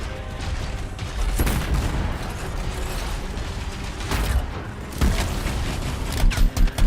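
Machine-gun fire in the video game Anthem: a dense, continuous rattle of rapid shots with sharper heavy blasts breaking through now and then, loud and close.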